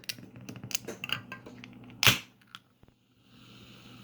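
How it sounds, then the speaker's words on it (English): A Coca-Cola can cracks open with one sharp pop near the middle, then a soft fizz. Light clicks and handling taps come before it. "You hear it? Got the soda open."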